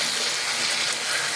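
Running water gushing steadily over new potatoes being rinsed, a loud, close, continuous splashing hiss with no talking.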